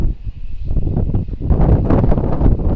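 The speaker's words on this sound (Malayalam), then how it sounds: "ഇവിടുത്തെ മെയിൻ പ്രത്യേകത കാറ്റാണ് എപ്പോഴും ഇങ്ങനെ കാറ്റുണ്ടാവും" Steady gusty wind on an open terrace roars across an open microphone, rising and buffeting harder in the second half, with a faint rustle beneath.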